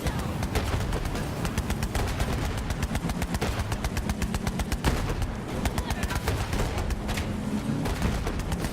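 Rapid, loud gunfire from a weapon in the Borderlands 3 video game rattles almost nonstop in dense bursts, with sharp cracks and some heavier thuds mixed in.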